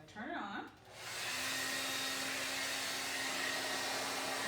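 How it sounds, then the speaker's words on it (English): Hair dryer switched on to blow small balls across a room: a brief voice, then a steady loud whooshing hum with a faint motor whine that holds evenly to the end. "we are going to see if we can use our hair dryer to blow some of these balls a little bit farther"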